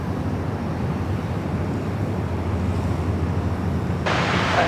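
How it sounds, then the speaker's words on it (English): Qantas jet on its takeoff roll from runway 16 right at Sydney Airport, a steady distant roar of engine thrust swelling slightly toward the end, with no talk over it. "Qantas 431, runway 16 right, clear for takeoff."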